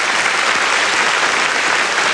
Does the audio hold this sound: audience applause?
yes